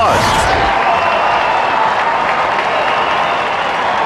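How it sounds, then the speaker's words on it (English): Applause for David Eckstein at an Angels spring training baseball game against the Padres, a dense, steady wash of clapping from a large stadium crowd, with a brief swell of cheering at the very start, continuing unbroken throughout. "he's getting a nice round of applause"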